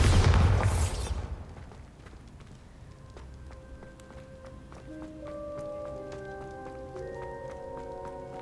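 A Bombarda spell explosion in a wizarding video game bursts loudly at the start and fades within about a second, leaving quiet chiming tones and soft ambience.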